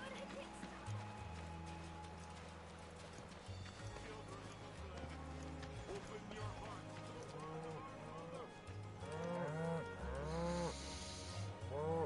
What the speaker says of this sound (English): We gonna be playing with cows